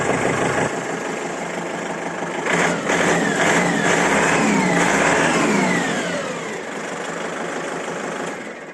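A used farm tractor engine runs close by, a smooth, steady mid-pitched rumble that swells briefly with a little throttle before easing back.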